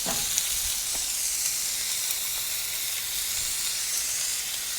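A frozen steak fries on an outdoor flat-top griddle, pressed down under a weight, giving a steady, loud, close hiss that holds without a break and has no voices over it.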